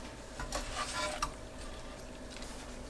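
Potatoes set into a hot empty pan, giving a soft sizzle with a few light scraping and clinking touches, quiet and close.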